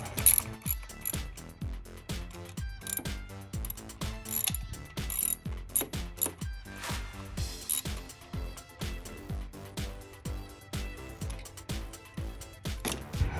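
A ratchet clicks in rapid, steady bursts while torquing ignition coil bolts on a 2012-2016 Jeep Wrangler JK with MSD Blaster Series coils, the close metallic pawl ticks repeating continuously.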